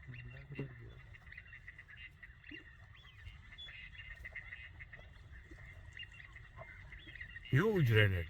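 Redhead ducks call over a duck hunting spread with decoys set out, faint calls sounding through much of the stretch and one loud, close burst at the end, under quiet talk.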